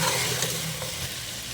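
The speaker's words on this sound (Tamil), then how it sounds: "மட்டன் போட்டாச்சு அது எண்ணெய் அப்படியே பிடிக்கணும்" Half a kilo of boiled mutton sizzles and fries in hot oil in a cooking pot, a close, steady, dense crackling hiss with no talk.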